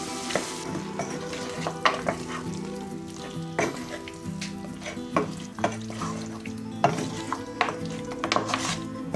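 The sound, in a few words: stirring beef with sauce in a pan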